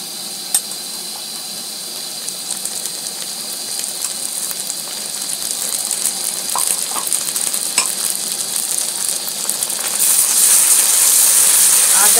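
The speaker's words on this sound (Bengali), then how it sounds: "আদা রসুন জিরেটা দিয়ে একটু কষে দিচ্ছি" Browned onion sautéing with ginger, garlic and cumin in a pan for a fish curry makes a loud, steady sizzle with light stirring clicks, swelling louder toward the end.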